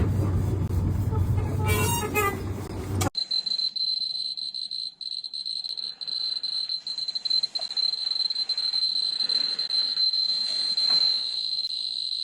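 A driverless ghost train sounds a long, steady, piercing horn blast that holds for about nine seconds, loud and close, following a brief burst of rumbling noise.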